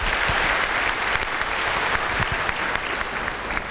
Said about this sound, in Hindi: मैं चाहूँगा कि हम सब उनका एक बार जोरदार तालियों से स्वागत करें।